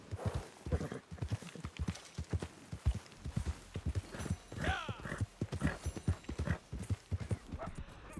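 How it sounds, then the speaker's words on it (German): Horse hooves clip-clop steadily on the ground in the Red Dead Redemption 2 video game, a close, rhythmic run of hoofbeats with a brief whinny partway through, fairly quiet overall. "Vielleicht soll ich mal erstmal das Pferd füttern hier."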